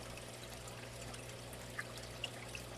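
Water poured to top off home aquarium tanks, a steady faint trickling stream running continuously over a low background hum with a few small splashy ticks.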